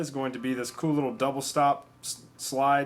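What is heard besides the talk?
No everyday noise stands out behind the speech.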